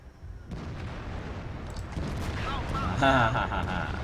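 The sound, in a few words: tank cannon firing in World of Tanks video game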